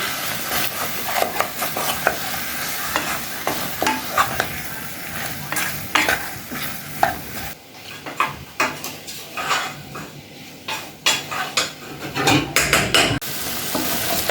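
Chicken and potato masala with chili powder and spices is stirred in a pan, giving steady scraping and clinking of a spoon against metal over a soft sizzle, with irregular knocks throughout and no talk.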